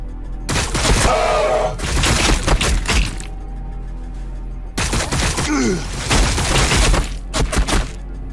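Bursts of gunfire in the Warhammer 40000 Battlesector video game, loud and clustered in several dense volleys with sharp cracks, separated by brief lulls.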